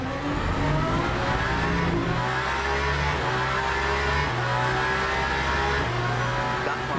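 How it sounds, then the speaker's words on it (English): A racing car engine in the video game Le Mans Ultimate at Spa-Francorchamps drones loudly and steadily, stepping up through gears with sharp pitch shifts, and no voices. "Sounds of this car, just so beautiful."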